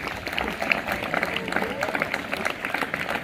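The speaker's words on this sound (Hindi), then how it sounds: "जोरदार तालियां इसके लिए" Students and guests at a school Republic Day function clap loudly for a pupil, a busy crowd of uneven claps with voices mixed in.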